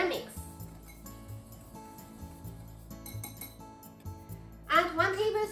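A spoon stirs microwaved teriyaki sauce of soy sauce, mirin, sake and water in a bowl, making light repeated clinks and scrapes against the dish, and a voice joins briefly near the end.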